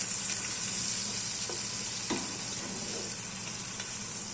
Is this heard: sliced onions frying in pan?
yes